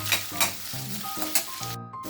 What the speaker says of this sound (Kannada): ಈಗ ನಾನು ಬಾಣಲೆಗೆ ಸ್ವಲ್ಪ ಎಣ್ಣೆ, ಜೀರಿಗೆ, ಒಂದು ಪಲಾವ್ ಎಲೆ, ದೊಡ್ಡದಾಗಿ ಹೆಚ್ಚಿಟ್ಟುಕೊಂಡ ಈರುಳ್ಳಿ ಹಾಕಿ ತಾಳಿಸ್ತಾ ಇದ್ದೀನಿ